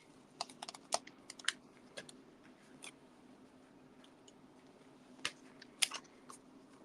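Scissors snip through craft ribbon in a quiet papercraft setting, producing a series of faint, sharp clicking cuts in irregular bursts with pauses between them.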